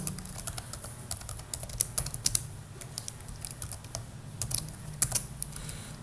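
Rapid irregular clicking of a computer keyboard as Java code is typed, close and fairly quiet, with bursts of keystrokes and short pauses throughout.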